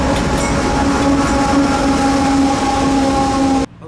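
CSX freight train I-010 led by B&O heritage locomotive 1827 rolls past at CP5 on the River Line, a loud continuous rumble and wheel roar with a steady tone, cutting off abruptly near the end.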